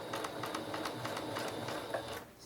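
Sewing machine stitching back and forth across elastic on a scrap piece of fabric, a steady rapid needle chatter running throughout at close range, with no talk.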